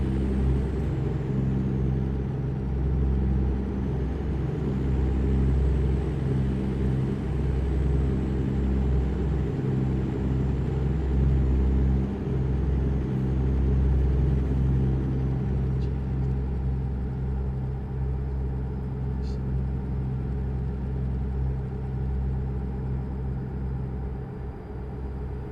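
A diesel truck engine in American Truck Simulator, cruising on a Louisiana highway, drones as a steady low rumble with a faint whining tone above, continuous and unchanging at cruise speed, with no voices.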